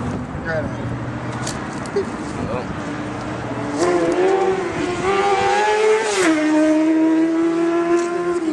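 Motorbikes rev and ride up a city street, engines rising in pitch as they accelerate past at moderate distance, mixed with steady traffic noise while people talk nearby.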